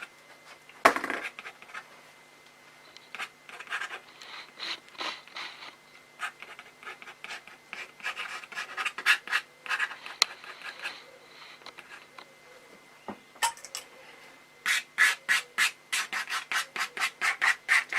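A pen scratches on paper during ink drawing, with dry, rubbing strokes in irregular bursts and a quick run of rapid scribbling strokes near the end. It is close and fairly quiet, with no voices.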